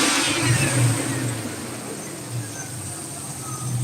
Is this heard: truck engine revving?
yes